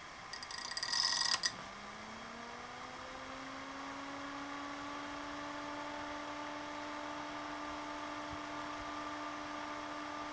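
A 92 by 15 mm computer fan on isolation pads between frame and fan spins up after a brief clatter, then settles into a steady, quiet hum with a faint tonal whine.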